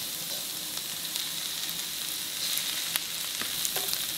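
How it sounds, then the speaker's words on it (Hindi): Chicken pieces sizzle steadily in a pan with sautéed onions, a constant close frying hiss with a few light clicks and scrapes scattered through, no voices. "प्याज सौते हो गया, अब इसमें चिकन डाल दें"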